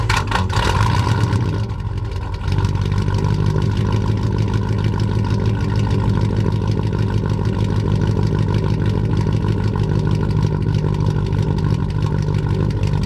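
A 1996 Chevy Cheyenne truck with straight-piped exhaust idles loud and close, a deep steady rumble that settles after a brief opening burble and holds evenly throughout.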